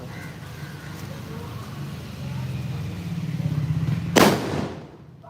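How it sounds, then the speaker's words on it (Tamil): During Diwali celebrations, low rumbling background builds before a single sharp, loud firecracker crack bursts out near the end, then quickly dies away. "ஐயோ வெடி பயங்கரமா இருக்கு"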